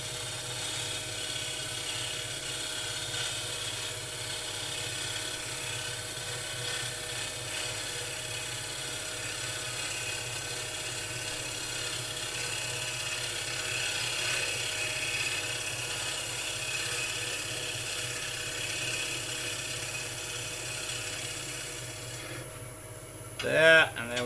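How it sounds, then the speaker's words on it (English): A wood lathe hums steadily as a gouge takes a light, continuous cut on a spinning turning. The whine holds even and moderately loud, and a few brief rattles come near the end. "just under the tip, nice light cut. Travel at the speed of the lathe."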